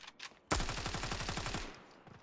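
AK rifle fire in the competitive shooter Standoff 2, a sharp sustained automatic burst of rapid evenly spaced shots lasting over a second, loud and close, after a brief quieter sound.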